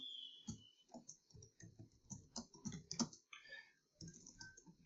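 Typing on a computer keyboard, with quiet, close, uneven bursts of key clicks and clacks running steadily without talk.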